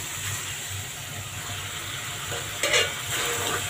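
Aar fish rubbed with salt, turmeric and a little oil goes into hot oil with spices, giving a continuous close hiss and sizzle with a brief louder crackling burst partway through.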